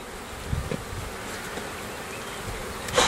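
Bees buzz at an open hive during requeening, a soft continuous hum with a few faint knocks and a brief louder burst at the very end.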